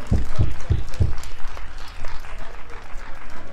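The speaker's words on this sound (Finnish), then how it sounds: "Annetaan vielä kunnon aplodit kaikille" Applause for the speakers at a May Day gathering: a crowd claps steadily, with a few heavy low thumps close by at the start, then an even wash of clapping.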